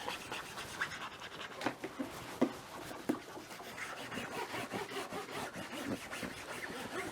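Fingernails scratching across a Big Al plastic goose silhouette decoy, a soft, close, dry rasping that repeats in short irregular strokes, with no talking.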